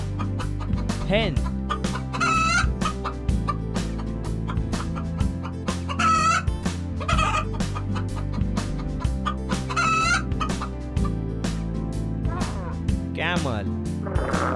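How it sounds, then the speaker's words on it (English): A hen clucks in repeated short bursts, with rooster-like calls mixed in, over continuous background music. "Hen."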